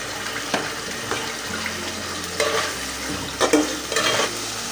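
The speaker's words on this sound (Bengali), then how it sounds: "এখানে আমার মশলাটা কষে আসছে" Meat cooks in a pan with ginger, garlic and onion paste and roast masala, giving a steady sizzle broken by occasional scraping stirs, with no talking.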